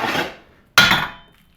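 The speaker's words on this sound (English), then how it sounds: "use a BFH and try to pound this out" Two sharp, loud metallic hammer blows, about a second apart, as a big hammer pounds a wheel bearing out of a clamped-down hub on a 2001-2012 Ford Escape or Mazda Tribute, each ringing briefly before fading.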